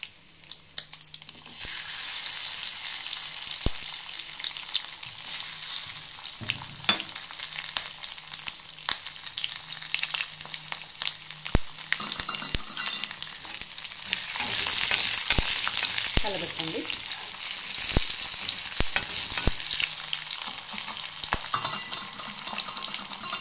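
Garlic sizzles and fries in a pan with a steady crackling hiss, while a utensil stirs and scrapes through it now and then.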